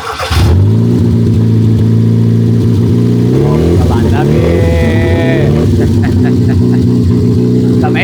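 A homemade car built on a rooftop revs its petrol engine loudly and close, a deep droning roar rising in pitch as the throttle opens, with someone speaking briefly over it.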